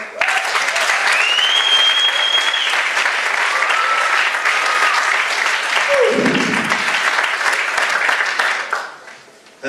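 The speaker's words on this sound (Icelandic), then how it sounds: "Þeir vilja gefa þér gott klapp." Loud, sustained audience applause at a live comedy show fills the room for several seconds, with a few whistles cutting through before the clapping fades away at the end.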